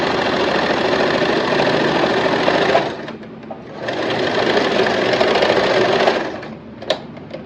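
A sewing machine stitches a swimwear seam in two long, fast whirring bursts separated by a short pause, with a brief tap and a final short burst near the end.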